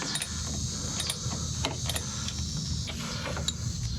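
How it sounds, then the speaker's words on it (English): A socket wrench loosens a bolt on a Harley-Davidson motorcycle's rear turn signal, producing a quiet run of ratcheting clicks and metallic ticks at close range over a few seconds. "Let's see if I can get under here with a socket first."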